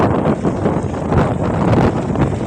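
Strong gusting typhoon wind roars and buffets the microphone in a steady, rough rush, with no voices.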